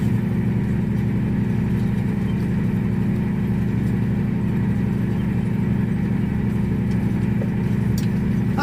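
A tractor engine runs loud and close with a constant, even drone throughout, holding steady revs without any clear rise or fall.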